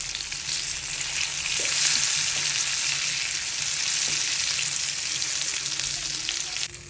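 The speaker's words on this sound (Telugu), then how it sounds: "ఇప్పుడు ఇంకో సైడ్ కూడా ఫ్రై చేసుకోవాలి." Fish fillets sizzling in hot oil in a pan, a steady close hiss and crackle with faint scraping touches, no voices.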